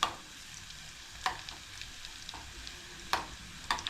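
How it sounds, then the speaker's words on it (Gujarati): Dry garlic chutney sautés in a pan for a Kathiyawadi gathiya curry, giving a soft steady sizzle broken by a few sharp clicks of a spoon scraping and stirring. "ચટણી થોડી સોતે થઈ જાય"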